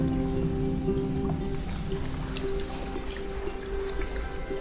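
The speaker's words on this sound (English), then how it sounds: "Small frozen waterfall." Water trickles and drips from a small frozen waterfall in the woods, a soft continuous patter with scattered brighter droplets, fairly close and quiet.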